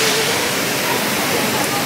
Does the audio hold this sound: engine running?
no